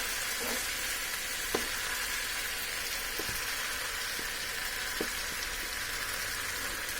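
Steady frying sizzle of leftover fridge rice tipped into a hot pan bit by bit, a broad hiss with a few soft taps and scrapes scattered through, no voices.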